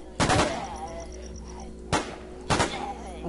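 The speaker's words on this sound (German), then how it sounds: "Da habe ich jetzt ein bisschen Schuss verschwendet." Gunfire in the zombie survival video game War Z: three sharp, loud shots spread irregularly over a few seconds, each with a quick decay, over a low steady game ambience.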